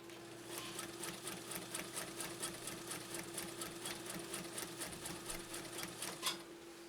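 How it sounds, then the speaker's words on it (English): A Japanese Viscount Model 929 sewing machine, a 1.5 amp workhorse, stitching at a steady rhythmic clatter with a constant motor hum underneath, running close and alone for several seconds before stopping. "Let's try this last sew off and we'll see how that stitching tightens up now"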